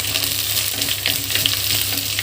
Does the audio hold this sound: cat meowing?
no